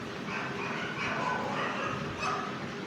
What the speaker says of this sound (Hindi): कुत्ते भौंक रहे, बंद करना पड़ेगा।